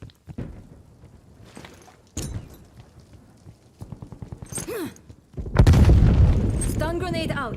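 A stun grenade goes off in a multiplayer shooter hardpoint match, a loud burst of booming noise rising sharply and ringing on for a couple of seconds after earlier scattered game sounds, thuds and a voice line.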